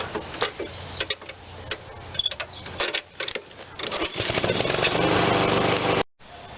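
Engine of a Honda-powered 21-inch MTD self-propelled lawn mower running nearby, with mechanical clicking and rattling that builds to a steady roar and then stops abruptly.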